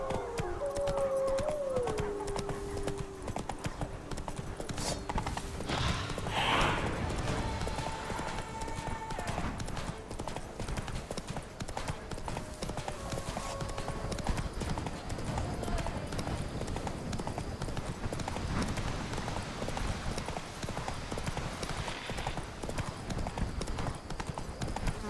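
Roach the horse gallops in The Witcher Wild Hunt, a steady rapid clip-clop of hooves running throughout at moderate volume, with an occasional whinny and faint background tones.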